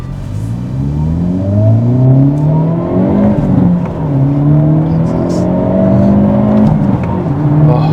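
A Hyundai Elantra N engine revs hard and climbs in pitch through several gear shifts, loud and close, with sharp drops between each rising sweep.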